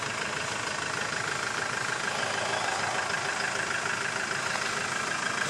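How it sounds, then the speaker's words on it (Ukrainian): A 2007 Hyundai H-1 passenger van idling: a steady, even engine drone with dense broadband noise and a faint ticking texture, close and constant throughout, no voices. "Мотор"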